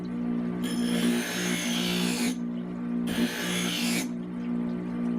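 An electric glass grinder hums steadily while stained glass pieces for an icicle are pressed against its wheel in two separate bursts of harsh rasping grinding over the motor drone.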